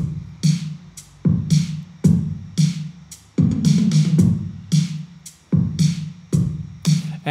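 A Logic Pro X beat plays a steady groove of kicks, snares from an analog drum kit with tom rolls, and shakers on quarter notes, loud and busy with repeated sharp hits and no voices.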